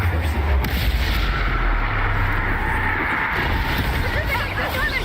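Confringo fire spell cast repeatedly in the Hogwarts Legacy video game, a roaring, rumbling burst of explosive noise with booming low thuds amid loud battle din, with a voice audible in the mix.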